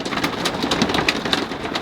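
Hail falls on an Airstream rally campground above a race track, a dense patter of small stones ticking steadily on surfaces nearby, with no talk.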